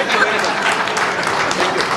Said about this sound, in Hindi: जब तक ये चेक ना देते तालियां बजाते रहिए आप लोग